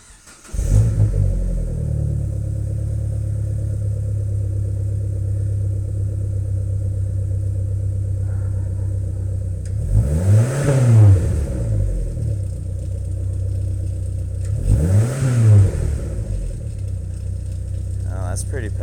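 A Dodge Neon SRT4 with an MPx exhaust idles in a steady low rumble, then revs twice in two quick throttle blips several seconds apart, close and moderately loud.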